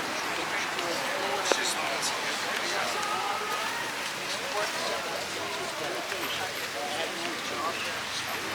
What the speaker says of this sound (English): Ooh, it's raining, raining, raining.